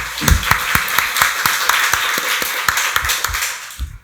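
A church congregation claps steadily for a few seconds during a Sunday worship service, a dense burst of applause with sharp individual claps, fading out at the end.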